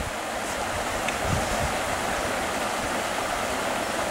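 Creek water rushes steadily over rapids during a fishing outing, a constant broadband wash with no pauses and no talk, fairly close and even in loudness throughout.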